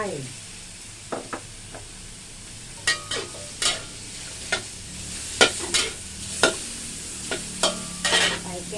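Kale stems tossed with wide rice noodles and minced chicken in a wok: a soft steady sizzle beneath repeated clinking spatula scrapes and stirs, close up, with no talking.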